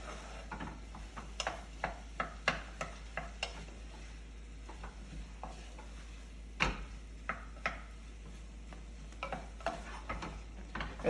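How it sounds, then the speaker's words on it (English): Rice being sautéed in a pan for Spanish rice, with soft sizzling and a series of scraping, clicking stirs that come in irregular bursts close by. "I'm going to add the rice. And I'll saute that for a second."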